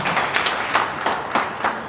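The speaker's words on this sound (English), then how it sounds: "Clap for him so that he knows you like him" A small class audience claps for a student, a few sparse, uneven bursts of hand claps repeating at roughly regular intervals in a room, moderately loud with no talking.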